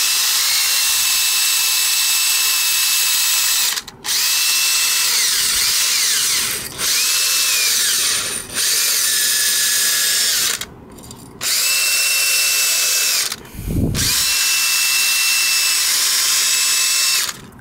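A power drill spinning a wire brush whines steadily at high speed with a scraping, brushing texture while cleaning a scooter, stopping briefly several times before spinning up again.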